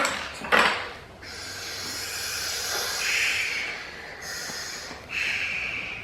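A voice imitates a strong wind for a children's story, with breathy, hissing blows in several long bursts that swell and fade, alone and close.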